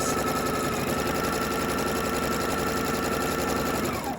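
Home sewing machine running continuously as it sews a pillowcase seam, a loud, close, steady mechanical whir with a rapid needle pulse throughout.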